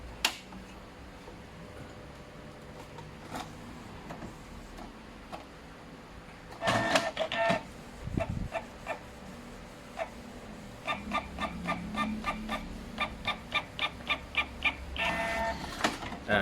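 A secondhand printer with a worn print head, bought cheaply from a junk shop, prints a plain text test page. It starts with scattered clicks and a feed clunk, then settles into a steady run of rhythmic mechanical pulses nearby.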